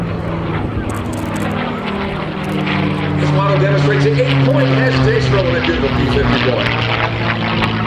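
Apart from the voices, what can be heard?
P-51D Mustang propeller aircraft engine during aerobatic roll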